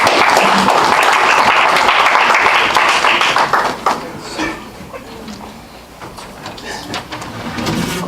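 An audience at an evening poetry meeting applauds a general evaluator being introduced, a dense steady clapping that thins out after about four seconds into scattered claps and room murmur.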